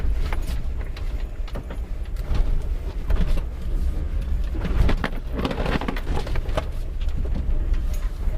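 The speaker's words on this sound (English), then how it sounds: "I get to use some gas right here." A Geo Tracker's engine revs and pulls off-road, a steady rough drone mixed with rattling, crunching and clunks from the rocky trail, loud and close, with no talking.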